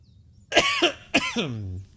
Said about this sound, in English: So yes, you may see some coughing.